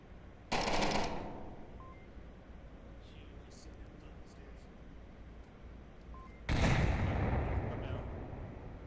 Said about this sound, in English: that nade detonated the C4